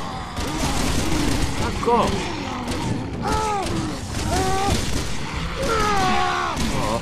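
Gunfire aimed at oncoming zombies in Resident Evil 6, rapid shots and booms running throughout, mixed with game sounds and someone talking over them.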